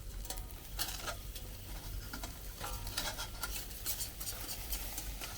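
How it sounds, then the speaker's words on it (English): A burger sizzles on a Pathfinder PFM40 charcoal hibachi grill, a faint, continuous crackle broken by scattered sharp pops and scraping clicks. "Let's flip the burger and see how it's looking"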